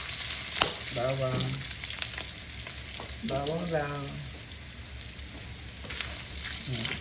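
Garlic sizzling in a pan, the first step in cooking sinigang, makes a steady close crackle of frying throughout, broken by a couple of brief tonal sounds.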